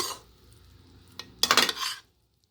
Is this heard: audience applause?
no